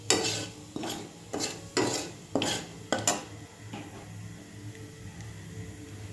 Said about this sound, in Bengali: লাউটা একবারে কষিয়েই বসাবো।